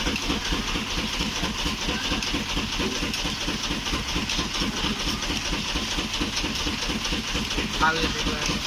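A village mill for flattened rice (chuda) runs steadily and loudly, a dense rhythmic mechanical clatter and hum that carries through the whole stretch without pause.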